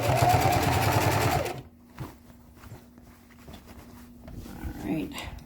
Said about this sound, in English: Today is also the first time that I'm sewing standing up.